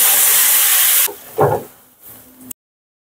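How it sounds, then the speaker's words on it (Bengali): Water added to a hot pan of chowmein pulao, a loud rushing hiss of steam that cuts off abruptly, followed by a softer bubbling burst and a fading sizzle before falling silent. "অল্প এবার আমি জল দেবো"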